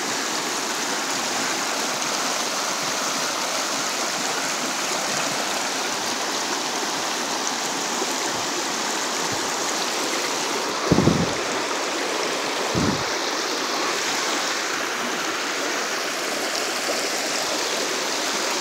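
A woodland creek flows in a steady, continuous rush close by, with a couple of brief soft knocks partway through and no talking.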